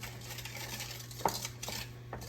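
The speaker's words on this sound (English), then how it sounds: "Gonna mix the dry all together." Dry cake ingredients being mixed in a bowl, soft scraping and stirring with a couple of light utensil clicks against the bowl, quiet and close with no talking.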